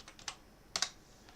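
A few quick, quiet keystrokes on a computer keyboard, in two small clusters, close and alone in a short burst of typing.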